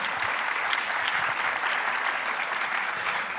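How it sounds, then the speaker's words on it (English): A conference audience claps for four gentlemen at a regional trade and development forum, a dense, even burst of applause that stays loud and unbroken throughout. "Big round of applause for the four gentlemen."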